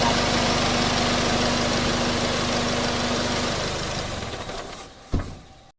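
A Nissan Navara D40 pickup's diesel engine idles loud and close with a steady, even throb, then is switched off and winds down, ending in a short clunk.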